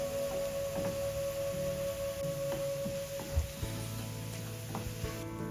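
Soft, steady sizzling of garlic and onion frying in oil until golden brown, with occasional stirring clacks and a thump, plus a faint constant tone in the background.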